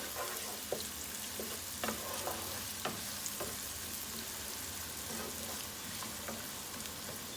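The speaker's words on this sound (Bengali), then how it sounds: "আমরা পেঁয়াজটা একটু নেড়ে দিই" Sliced onions sizzle and fry steadily in a pan on the stove, with a spoon stirring and scraping through them in intermittent soft clicks, close and fairly quiet, with no voices.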